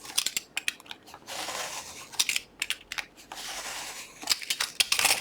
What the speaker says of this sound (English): you can also use a scissors, strong ones.